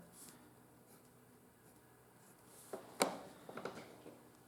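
A pen scratches out empty coordinate brackets by hand for a trigonometry lesson, a few quiet scratchy strokes and taps in a near-silent room, one sharper stroke standing out.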